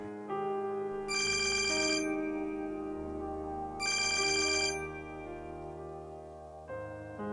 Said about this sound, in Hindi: मामा का फोन था।